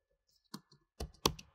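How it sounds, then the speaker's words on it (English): Computer keyboard keys are pressed for a return or enter confirmation: a few quiet, sharp clicks, with two louder taps close together near the end, no talking. "Press return and enter on the keyboard to confirm."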